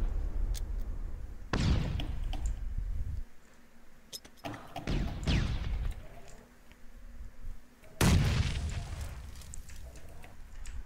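Grenade blasts in the battle royale game PUBG, including stun grenades: three loud, sharp booming bursts with decaying tails, the last the strongest, set against a quieter game ambience.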